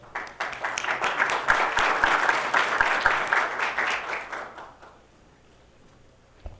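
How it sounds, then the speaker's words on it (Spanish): An audience at a water funds biennial conference session applauds to welcome a speaker: dense, steady clapping from many hands for about five seconds, then it thins out and fades into a quiet room. "¿Se lo podemos recibir con un aplauso?"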